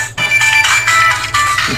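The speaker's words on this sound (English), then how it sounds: "That's my ringtone." A cell phone ringtone plays a short, loud, bright musical phrase for under two seconds, with no voices over it.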